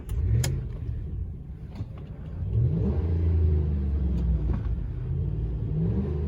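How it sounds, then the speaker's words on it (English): A 2014 Dodge Ram 1500 4x4 Quad Cab Sport with a Hemi V8 idles with a deep rumble, then its engine is revved up and held, a close, throaty roar with no talking. "Giving the engine a little rev there for you."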